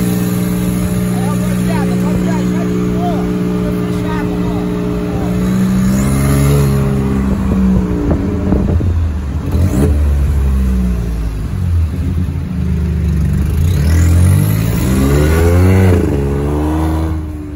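A Volkswagen Polo TSI fitted with the original intermediate muffler and an exhaust diffuser revs up and down several times, loud and close, its exhaust rumbling with scattered crackles and pops while people talk over it.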